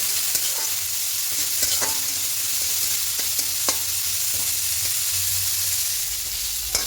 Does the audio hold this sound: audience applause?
no